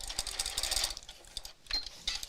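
A sewing machine runs at a longer stitch length while top stitching, giving a quick, even mechanical patter that pauses briefly before resuming, close and fairly quiet, with no talking.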